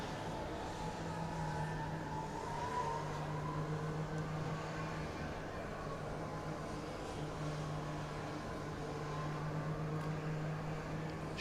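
Distant, steady engine drone from a Formula Student race car lapping the skidpad at the FSG25 competition, a faint continuous hum with slowly shifting pitch.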